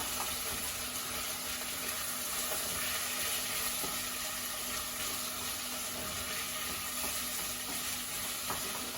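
Vegetables for a beef and vegetable pie softening in a pot, a constant close sizzle and bubbling hiss that holds steady throughout with no talk.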